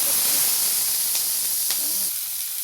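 Sliced onions hit a pan of shallow hot oil with fennel seeds, giving a loud, steady broadband hiss of sizzling that holds throughout and eases off slightly toward the end, with no voices.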